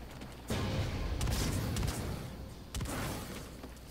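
Booming gunshots in the video game Call of Duty: Infinite Warfare, two heavy blasts a couple of seconds apart, each followed by a rumbling tail, loud and without talk.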